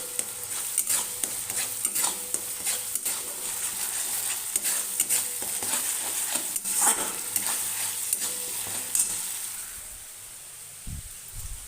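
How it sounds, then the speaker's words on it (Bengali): Spice mix for an egg, potato and lentil dish stir-fried in oil in a pan over a high gas flame, with steady loud sizzling and repeated spatula scrapes and clicks that ease off near the end, no voices. "এবার এটাকে ভালো মতো কষিয়ে নেব যতক্ষণ না তেলটা না ছেড়ে আসছে"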